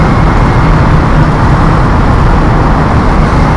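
Inside a Tehran road tunnel, a long line of heavy traffic makes a constant loud roar of engines and rolling tyres, thick and reverberant, holding steady throughout with no voices.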